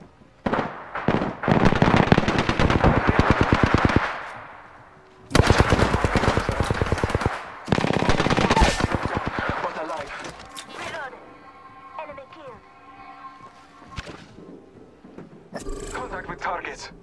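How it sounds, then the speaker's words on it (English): Apex Legends gunfire crackles in rapid automatic bursts separated by short pauses, loud and close, followed by quieter scattered shots and game effects, with voices talking over parts of it. "I am taking fire. In combat."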